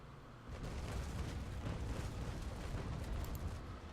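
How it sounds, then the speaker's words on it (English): Ship cannons fire in the naval combat game Naval Action, heard as a dense, continuous low rumble of broadside booms that swells after a brief quieter start and holds loud throughout, with no talk. "Cannons."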